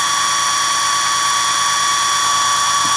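A 5400 W Chinese wind generator spinning at 60 RPM gives off a steady high-pitched electrical whine with a fine buzzing texture, constant and loud throughout, with no voices.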